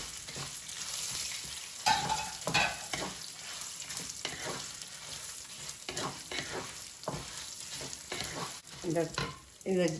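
Spices and dried red chillies dry-roasting in a pan while being stirred, with continuous crackling and scraping strokes, close and moderately loud, no voices.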